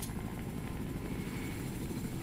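Helicopter in the Fortnite video game, a loud continuous rotor thrum with a low pulsing drone and a whining hiss above it, held steady and close throughout.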